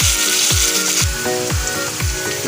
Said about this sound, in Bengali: লবণ দিয়ে আলুগুলোকে ভেজে নেব